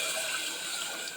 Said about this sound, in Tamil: நம்ம ரெடி பண்ணி வச்சுருக்கிற ரசத்தை ஊற்றிக்கலாம்